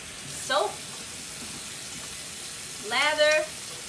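Tap running hot and cold water at a kitchen sink during handwashing, a steady hiss of flowing water under two brief bursts of talking.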